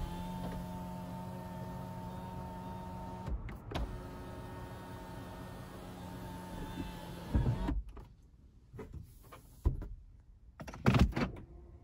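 Power sunroof on a 2020 Lexus ES300h hybrid sliding open inside the cabin: a steady electric motor whir lasting several seconds, followed by a few soft clunks and thuds as the panel stops.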